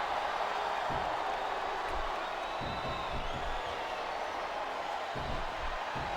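A wrestling arena crowd in the game WWE 2K24, during a monster tag team match, makes a steady, distant roar of massed voices with faint rising swells and no distinct claps.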